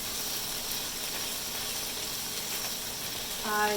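Chicken browning in hot oil in a pan for a sweet and sour stir-fry: a steady, fairly quiet sizzle and crackle of frying that continues throughout, with a brief clink near the end.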